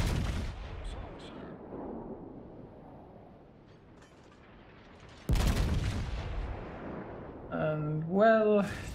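Bismarck's secondary guns firing in World of Warships, heavy booming naval gunfire with a sharp loud blast midway followed by rumbling, a distant opening volley, and a brief tonal game alert near the end.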